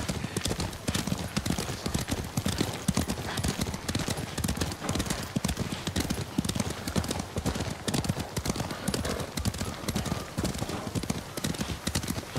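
Rapid clip-clopping of horses' hooves at a gallop in the Ghost of Tsushima video game, loud and continuous throughout, with a brief horse snort or whinny mixed in.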